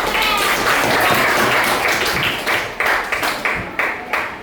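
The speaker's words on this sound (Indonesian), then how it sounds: "Tepuk tangan dulu semuanya" An audience breaks into applause, a full dense wash of clapping that thins into a few scattered, separate claps before stopping.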